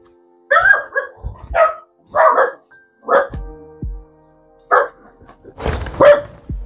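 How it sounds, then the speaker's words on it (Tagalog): Several dog barks ring out at night in a dark rural neighborhood, spaced irregularly and moderately close, with brief human voices and a shushing sound mixed in between the barks. "So yan ang ingay ng aso."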